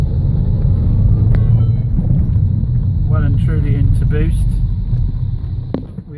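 A turbocharged petrol car accelerates hard in boost after a valve change, its engine loud and close with heavy rumble and wind buffeting, and tones rising midway through the pull.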